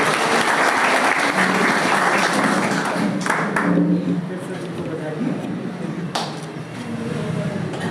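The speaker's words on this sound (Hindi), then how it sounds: "इनके लिए भी जोरदार तालियां होनी चाहिए" An audience at a one-day CSC workshop in Banka breaks into loud applause that fills the first half, then thins and fades as voices and murmured talk take over.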